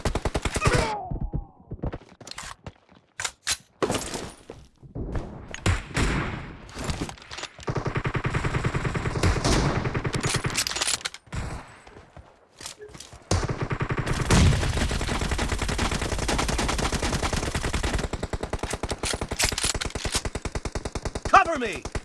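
Automatic weapon fire in the mobile shooter PUBG Mobile during a team deathmatch, long rapid bursts and single shots separated by short gaps, loud and close, with a few brief game voices between bursts.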